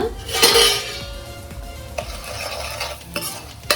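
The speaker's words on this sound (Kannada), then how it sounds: "ಎಲ್ಲ ಫುಲ್ ಮಿಕ್ಸ್ ಮಾಡ್ಕೊಳ್ಳಿ ಎಣ್ಣೆಯಲ್ಲಿ" A spoon stirs turmeric, garam masala, chilli powder, red chilli powder and salt frying in oil in a pan for egg curry. Close scraping strokes come with a few light metallic clinks and a soft sizzle, and no one talks.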